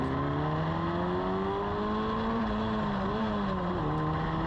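A Formula Ford race car pulling away from a standing start, its engine droning loud and close with pitch climbing steadily through the revs, alone without speech.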